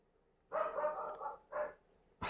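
A female dog howls and barks in an indoor room with a long drawn-out howl, a shorter follow-up cry, then another loud burst starting, all fairly close and with no talk.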